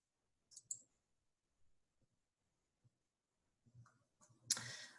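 Sparse, quiet clicks of a computer mouse in a hushed room, a few isolated taps spread out before a sharper click and a brief noisy burst at the end.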